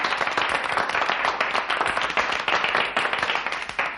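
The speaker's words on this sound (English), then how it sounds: "Gentlemen, thank you for your generous applause." An audience applauds during a radio drama: dense, steady clapping from many hands, loud and close, holding evenly for about four seconds with no other sound.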